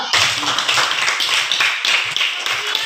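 Children in a primary classroom clap together on cue during a plant-science lesson, a steady burst of quick, uneven claps filling the room for a few seconds.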